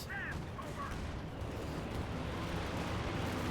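Katyusha rocket artillery barrage in Company of Heroes 2 during a 4v4 match, a continuous low rumbling roar of rockets launching and impacting, dense and steady throughout, with distant battle noise layered in.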